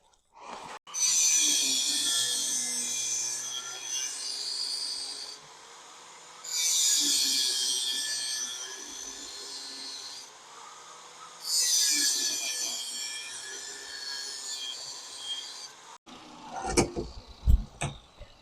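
An angle grinder cuts notches into a steel bar held in a bench vise for a forged dragon scale twist pattern, three long sustained screeching passes separated by pauses, close and loud, ending in a few clattering knocks.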